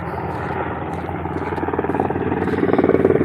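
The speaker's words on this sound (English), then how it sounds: "Another helicopter." A helicopter flies over a brush fire in a riverbed in Riverside County, at Limonite and Van Buren. Its rotor chop pulses faster and louder as it closes in.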